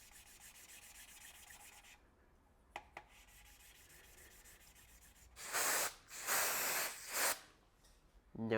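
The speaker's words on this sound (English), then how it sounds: "But we'll do one more round with fine compound, just like that." Fine compound lapping a valve seat in a BMW engine cylinder head, a gritty rubbing rasp that comes in a few loud back-and-forth bursts near the end after quieter scraping and a couple of sharp clicks.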